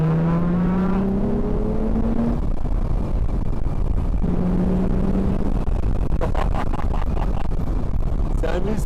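A Morgan Roadster with a 3.7-litre V6 pulling hard under acceleration, its engine note climbing through gears with a loud, constant roar of road and wind noise.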